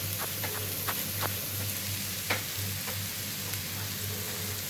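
Chopped carrots with ginger frying in a pan, giving a close, steady sizzle with occasional sharp crackles and spoon taps and a faint hum underneath.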